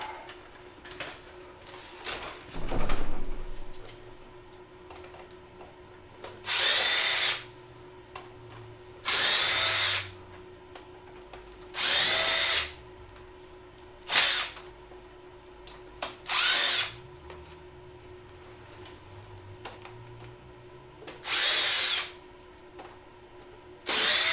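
A power drill backs screws out of the back of a canoe in about eight short, loud whirring bursts, separated by quiet pauses and light handling sounds.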